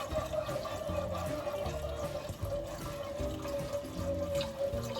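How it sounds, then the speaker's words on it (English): Milk streams into a sauce for beef and pumpkin moussaka while a whisk stirs it through, a soft continuous liquid pour with light scraping, close and fairly quiet. "now to that I'm going to add 600 mils of milk. Just pour that in, and I'm just going to whisk it through as it goes in"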